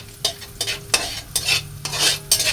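Chayote being stirred and sautéed in a frying pan, a spatula scraping in repeated strokes roughly every half second over a steady close sizzle.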